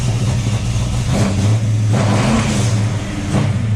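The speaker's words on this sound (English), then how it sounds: "So when I open the throttle up, this little squirt." A Ford Falcon XB GS engine, running slightly lean, revs up as the throttle opens, a loud close-up rumble rising and falling over a few seconds.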